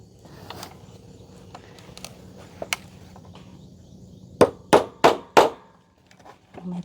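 Hammer blows drive nails into bamboo near a home vegetable garden: a few scattered taps early on, then four loud, sharp strikes in quick succession near the end, over a quiet outdoor background.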